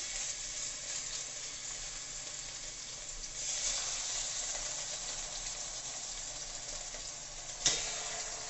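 Beef strips for pepper steak sizzle steadily in a hot pan, a constant close crackling hiss with a brief louder burst near the end and no talking.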